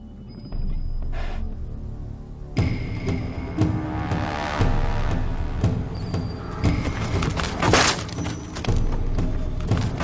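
Camel running an obstacle course while targets are broken along the way: repeated loud thuds and crashing impacts with pounding footfalls, dense and continuous for several seconds, no talking.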